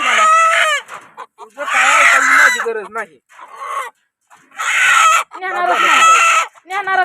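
Loud, close rooster crowing in long repeated calls, with a person speaking briefly in between.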